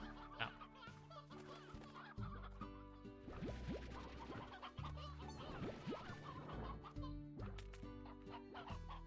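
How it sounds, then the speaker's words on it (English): A hen in the video game Slime Rancher clucks repeatedly in quick, bubbly bursts, set against layered game music and ambient sound, faint overall. "Look at that, another hen."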